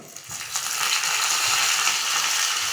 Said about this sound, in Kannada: ಸಾಸಿವೆ ಒಂದು ಸ್ವಲ್ಪ ಚಟ ಚಟ ಅಂದ ತಕ್ಷಣ ಇದು ಕರ್ಬೇವಿನ ಸೊಪ್ಪು ಹಾಕ್ಕೊಳ್ತಾ ಇದ್ದೀನಿ